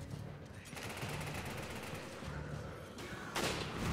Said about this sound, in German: Die schießen ja von überall auf einen.